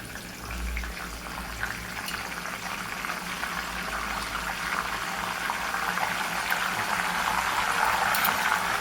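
A steady bubbling, frothy hiss of salt water poured into hot oil frying banana wafers, building slightly over several seconds with a faint low rumble underneath; no voices.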